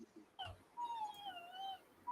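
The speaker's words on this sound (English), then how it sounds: "I heard the whimper." A dog whimpers indoors, a thin rising-and-falling whine lasting over a second after a brief higher yelp, fairly faint with no one talking.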